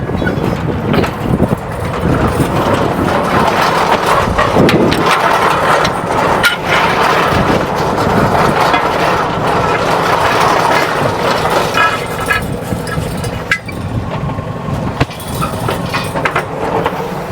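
A loud, continuous tractor engine drone with rattling mechanical clatter, close by and unbroken throughout.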